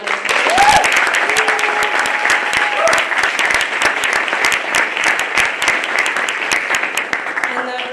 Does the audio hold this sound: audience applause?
yes